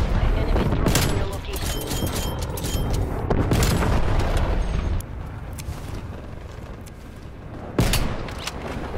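Gunfire rattles in Call of Duty Cold War as an enemy is shot out of the air, loud bursts and booms over several seconds mixed with voices talking.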